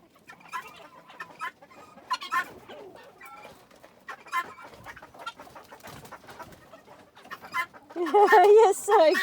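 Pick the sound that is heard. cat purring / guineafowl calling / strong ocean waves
guineafowl calling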